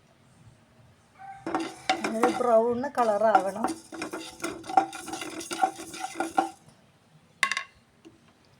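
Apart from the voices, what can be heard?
fenugreek and mustard seeds roasting in a pan, stirred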